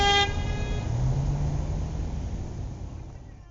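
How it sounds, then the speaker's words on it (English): A car horn beeps from a silver car a couple of vehicles back in traffic at a green light by a yellow box junction, one short honk at the start followed by a fading engine and road hum. "the silver car behind this white car behind me decides to beep"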